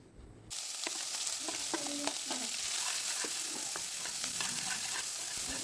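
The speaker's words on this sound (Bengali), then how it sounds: "পেঁয়াজটাকে একটু ভাজা ভাজা করে নিতে হবে প্রথম দিকে" Chopped onion fries in hot oil with cumin and garam masala, giving a steady, close sizzle with scattered crackles and pops that starts abruptly after a brief quiet moment.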